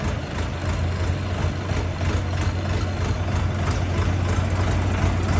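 A steady, loud engine drone with a deep low hum, heard close and continuous without pause, from an Orion GT 504 idling.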